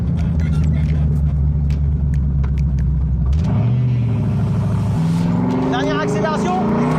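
A car accelerates hard, its engine note climbing, dropping at gear changes and climbing again, loud and close, with some talk over it.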